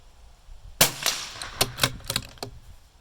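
Rifle shots fired with free recoil at steel targets, a sharp report followed by several quick, ringing impacts and echoes over roughly two seconds, loud and close with no talking.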